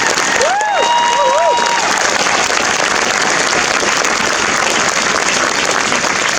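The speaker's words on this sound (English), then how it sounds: "Can we please get another clap for Soraya?" Protest crowd at an Auckland rally applauding a speaker, dense continuous clapping with scattered cheers and whistles, loud and close throughout.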